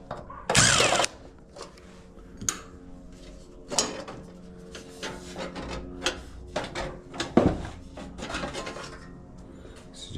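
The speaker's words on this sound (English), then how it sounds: "So just take out those two screws and it comes off." Screws being backed out of the top panel of a Samsung stove, with scattered metallic clicks, scrapes and rattles of the panel and tools at close range, one louder clatter near the start.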